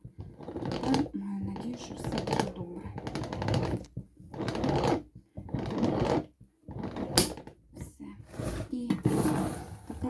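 Metal seaming key crimping lids onto home canning jars, a run of grinding, ratcheting bursts separated by brief pauses, with someone speaking at times.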